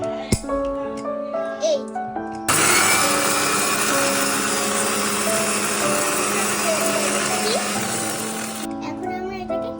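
A blender grinds puffed rice in a loud, continuous whirring roar lasting several seconds, preceded and followed by brief talk and light handling clatter.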